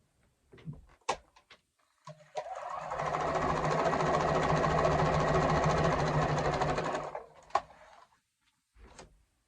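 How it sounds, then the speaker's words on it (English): A sewing machine stitches quilt pieces cut from charm squares for a wonky star pattern, a steady close whir lasting about five seconds, framed by fabric handling and clicks before and after. "Now I'm going to sew it again."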